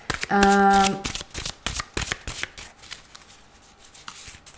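Cards riffle and snap in quick bursts, close up, following a short musical tone at the start; the shuffling slows and grows quieter toward the end.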